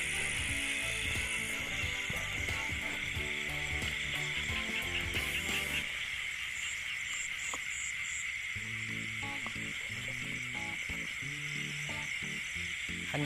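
Frogs calling at night in rice fields after rain, a dense, continuous rattling chorus of rapid clicking croaks with a high insect-like hum above, many calls overlapping close by.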